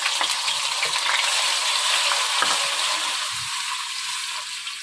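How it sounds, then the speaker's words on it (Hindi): Garlic ginger paste sizzling in about half a cup of hot oil, a steady bright frying hiss with small crackles and pops throughout, close and continuous with no voices. "इसमें मैं पेस्ट शामिल कर देती हूँ लहसुन अदरक का।"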